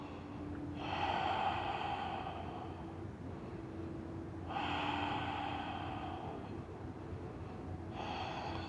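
Slow, deep breathing during a yoga shoulder stretch: two long, soft breaths several seconds apart, heard close and quiet with no talking.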